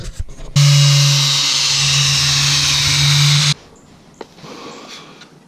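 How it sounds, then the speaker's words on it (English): Angle grinder smoothing the corners of an octagonal forged steel spear shaft, a loud sustained whining grind lasting about three seconds, then cutting off to quiet shop noise and a couple of light knocks. "hit the eight corners of this octagon with the angle grinder, and then I'm gonna start smoothing it out and getting the whole thing round"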